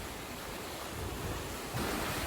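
Ocean surf rolling and breaking in a steady broadband wash, with a louder swell surging in near the end; wind buffets the microphone throughout and no voices are heard.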